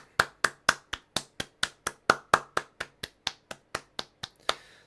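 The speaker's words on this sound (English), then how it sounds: "Andy, massive round of applause to you." A game jam audience claps about twenty times in a slow, steady rhythm, each sharp, crisp clap distinct and fairly close, with no talk over it.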